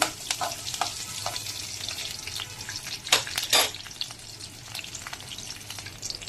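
Tempering spices and green chilli crackle and sizzle in hot oil at a moderate level, with sharp pops and a couple of louder spatters as the pan is stirred.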